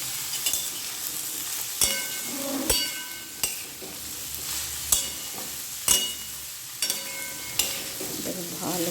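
Ground spices, turmeric, tomato and three green chillies sautéing in a pan, a bubbling sizzle broken by repeated sharp spatula knocks and scrapes at a loose, irregular rhythm, close by with no talk.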